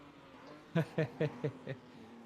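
Tyres locking up under hard braking in a racing video game, heard as five short, evenly spaced squealing bursts over a steady engine drone, fairly close and clear.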